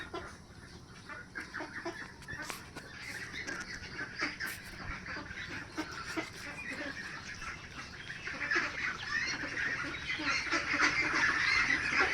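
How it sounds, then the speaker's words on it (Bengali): A flock of about a hundred young ducks, roughly forty days old, quacks continuously in an overlapping chorus from a pen, fairly faint and growing busier toward the end. "হাঁসের বয়স হয়েছে মোটামুটি 1 মাস 10 দিন।"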